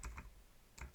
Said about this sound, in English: Now type in this exact command